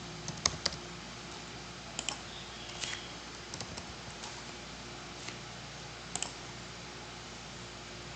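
Light, sparse keystrokes on a computer keyboard while entering text into an Excel spreadsheet, a few quiet clicks in small clusters over a soft background hum.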